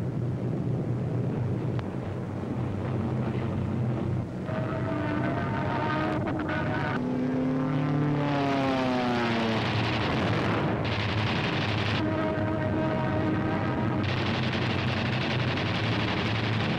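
WWII P-47 fighters and heavy bombers drone steadily in flight, with engine tones rising and falling as aircraft sweep past, loud and sustained over a rumbling background.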